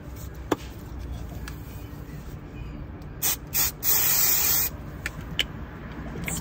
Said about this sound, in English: Spraying on a magnet.